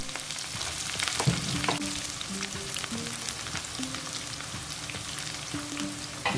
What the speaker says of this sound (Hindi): ग्रीन चिली के साथ साथ बारीकी से कटा हुआ ऑनियन डाल देंगे